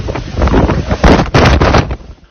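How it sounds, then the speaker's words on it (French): Violent storm gusts batter a microphone in Paris during a rare, fierce thunderstorm with torrential rain, a loud, roaring buffet surging in uneven waves over a couple of seconds. "Au sommet de la Tour Eiffel, une rafale de vent à 112 km/h est mesurée."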